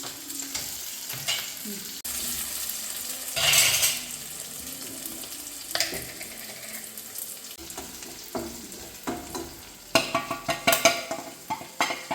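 Ingredients frying in a hot pan and being stirred, a steady sizzle broken by scraping and clinking of a spoon against the pan, with louder bursts toward the end.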